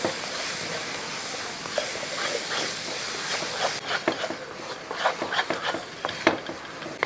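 A mango mixture with crushed cardamom is stirred in a cooking pan, giving a steady hiss from the start and, in the later half, a run of scraping clicks and knocks.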